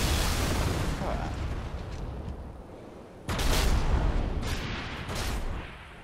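Rapid turret fire from the video game Halo Reach, loud dense bursts of gunfire with a burst that grows louder midway, sustained over broadband noise, with no speech over it.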